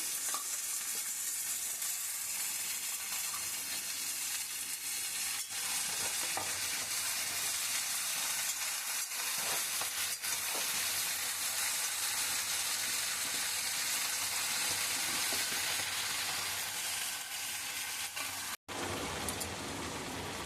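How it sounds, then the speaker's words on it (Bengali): Malabar spinach and potatoes fry together in a hot pan with a loud, continuous sizzle, occasionally stirred, close up and steady for the whole stretch, with no talking. "পুঁই শাকটা ছাড়বো আলু দিয়ে পুঁই শাকটা দিয়ে একসঙ্গে ভেজে কষে নেব"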